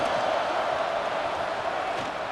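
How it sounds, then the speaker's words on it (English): Roaring stadium crowd in EA Sports College Football 26, a dense, steady wash of cheering and shouting that holds loud and unbroken throughout with no pauses. "wow, listen to this crowd noise. This stadium is vibrating."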